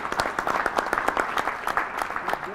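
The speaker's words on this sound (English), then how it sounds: "If you give a big applause, yeah, that'd be great" Audience applause at a MEHA AEC conference session, a steady wash of many hands clapping at moderate volume with no talking over it.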